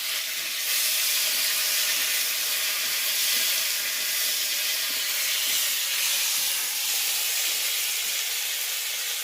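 A loud, constant hissing sizzle fills the whole stretch as tomatoes fry hard in a hot wok, with no voices.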